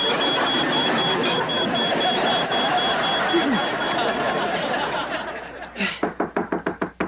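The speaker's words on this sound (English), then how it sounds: "That sounds like the smoke alarm." A household smoke alarm in a kitchen gives a rapid series of sharp, regular beeps at the end, after a stretch of busy, noisy room sound.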